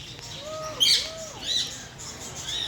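Alexandrine parakeets calling in an aviary at the Dehradun Zoo, Malsi Deer Park: a few rising and falling squawks and chirps at moderate distance over steady background noise, with no talk.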